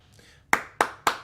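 Three sharp, close hand claps in an even rhythm follow a brief quiet stretch, each clap crisp and loud.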